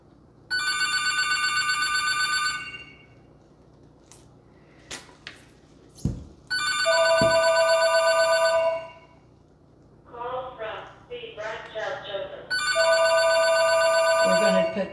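An indoor telephone rings in three long bursts separated by gaps, with a few knocks and a woman's brief speech between rings.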